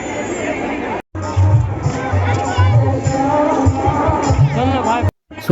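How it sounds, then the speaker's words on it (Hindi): Dense crowd of devotees at the Maa Shyama temple, a continuous babble of many voices chattering close by, with two brief gaps of near silence. "श्रद्धालु सबके भक्तगण सबके भीड़ देखियो।"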